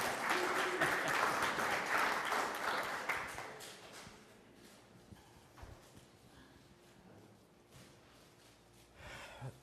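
Applause from an audience greeting a police sergeant at a community safety event, loud and dense for the first few seconds, then thinning into scattered claps and faint room noise.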